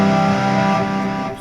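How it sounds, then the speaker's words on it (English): An Ibanez AZ242PGB electric guitar played through distortion on its bridge pickup rings out as one loud, sustained, gritty chord that slowly decays over little more than a second, with no voices present. "distortion by using this bridge pickup"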